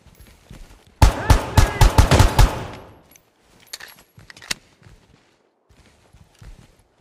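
Sharp bursts of rapid gunfire in the tactical shooter Ground Branch, a loud cluster of shots up front that fades into scattered, quieter pops and clicks.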